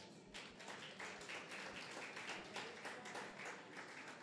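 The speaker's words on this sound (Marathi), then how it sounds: "जाधव साहेबांसाठी टाळ्या" A crowd at a 2023 cultural festival council event in Maharashtra claps steadily for a guest of honour, dense, even applause with no breaks, heard at low level from a distance.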